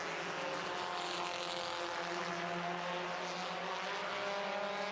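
Pure Fours race cars, including an 09 Celica, pass at Lonesome Pine Motorsports Park, their engines giving a sustained, fairly distant roar with shifting pitch as they go by, steady throughout.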